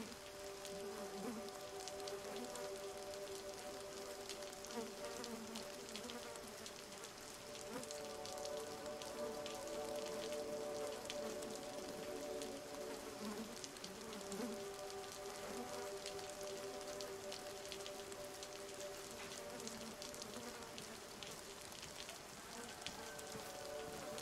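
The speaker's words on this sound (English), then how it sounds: "It's just rain" Steady rain falls in a video game roleplay, a constant hiss of drops hitting surfaces that holds an even level with no talk over it.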